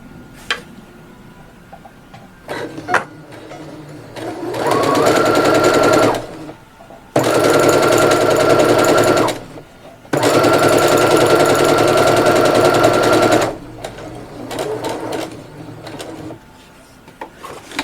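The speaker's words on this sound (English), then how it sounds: "Then we can just follow this part, the triangle part, just sew it down." A sewing machine stitches a dog bandana into a face mask in three loud bursts of rapid mechanical whirring, each lasting a few seconds, separated by brief pauses with light handling clicks and fabric rustle.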